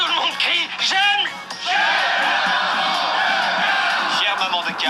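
A crowd shouts together in a loud sustained roar that swells and holds for several seconds, after a few quick excited voices.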